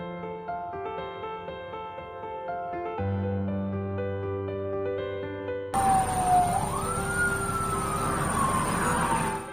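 Ambulance siren on a road next to a container truck, rising and falling in a loud sweeping wail that comes in suddenly after a stretch of music and continues to the end.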